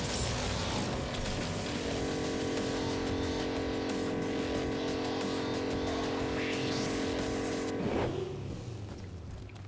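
A car engine in the Agents of Mayhem video game hums steadily, then swells into a rising rev near the end, heard close and continuous with no talking.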